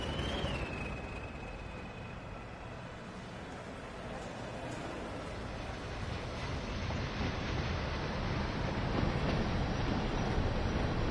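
Another train passing in the simulation game Train Sim World 2, a broad steady rumble of wheels and wagons that grows slightly louder, with a brief high whine at the start and no talk.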